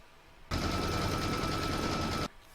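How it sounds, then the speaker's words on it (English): An embroidery machine stitches a round through stabiliser to secure quilt batting, a loud, continuous rapid mechanical chatter that starts abruptly, runs steadily for almost two seconds, then stops. "I'm now going to pop that in my machine and stitch round number 2, which is going to secure the batting down"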